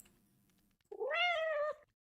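A single clear cat meow from the Little Inferno video game rises and then holds for nearly a second, close and distinct, after a low quiet hum.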